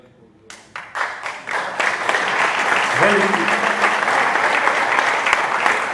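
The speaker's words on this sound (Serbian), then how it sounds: "Veliki aplauz za sve vas" Crowd applause and clapping at an outdoor Serbian Radical Party political rally on a hot day, swelling from scattered claps into sustained, loud applause with a voice speaking over it.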